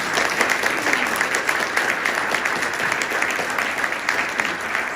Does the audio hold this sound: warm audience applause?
yes